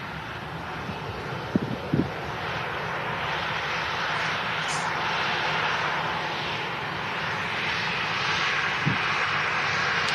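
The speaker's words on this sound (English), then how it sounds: "It's 17 years old, this 737. It's quite old for a Ryanair" A 17-year-old Ryanair Boeing 737 arriving from Alicante, its jet engines a loud, steady broadband roar that swells slowly and holds throughout, with a couple of faint clicks early on.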